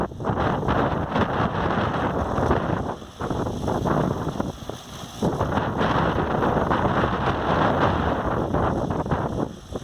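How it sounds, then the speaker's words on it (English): An iSta Breeze i1500 small wind turbine sends out a steady, loud whooshing roar from its working blades, swelling and dipping with gusts over the full stretch, with nobody speaking. "All the blade noise going on right now is coming off the i1500."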